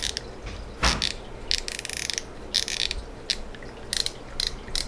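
A spinning reel's drag is cinched down and then backed off, giving bursts of quick ratcheting clicks with short pauses between them, close and fairly loud.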